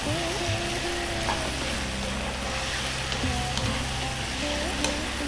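Turmeric, coriander and cumin are stirred into a frying curry base, producing a continuous close sizzle with light spoon scrapes and small pops throughout.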